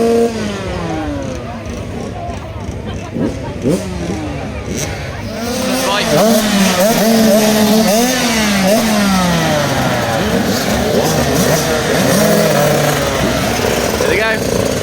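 Small KTM 85cc motocross bikes race at a festival track near Bolesworth Castle, their high two-stroke engines revving and rising and falling in pitch as several pass close, with people talking throughout.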